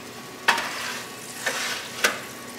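Steaks sizzle and fry on a Wild Fire 4-in-1 grill, a steady crackling hiss broken by three sharp pops or spits, with grease collecting underneath; no talking.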